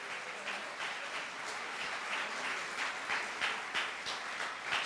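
A church congregation at a sermon applauds, a steady wash of many hands clapping that fills the whole stretch at moderate level with no voices over it.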